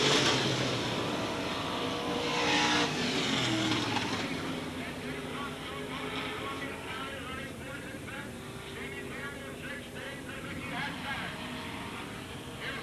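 Late model race cars lap the dirt track at Selinsgrove in 1988, their engines roaring nose to tail from a distance beneath a commentator's steady play-by-play.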